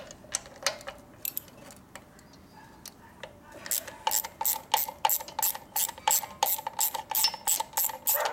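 A ratchet wrench loosens the top nuts on a 1970 Harley-Davidson Sportster XLCH ironhead: a few scattered clicks at first, then a fast, steady run of loud, close ratcheting strokes.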